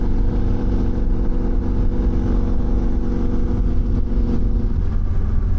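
A 1989 Yamaha 750 XTZ motorcycle engine runs steadily and loud up close, a continuous low throbbing drone with a slight rise toward the end, no speech.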